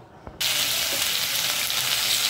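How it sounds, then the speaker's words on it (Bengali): Fenugreek seeds, cumin and bay leaf hit hot oil after frying fish for a vegetable dish, bursting into a loud, steady, close sizzle after a brief quiet moment, continuing without talk. "তেলে ফোড়ন দিয়েছি মেথি, জিরে আর তেজপাতা"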